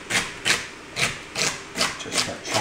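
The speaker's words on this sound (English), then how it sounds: "Just start chopping this up in nice bite-sized pieces." A knife chops celery steadily on a cutting board, about six crisp, evenly spaced strikes at a relaxed pace, close and clear.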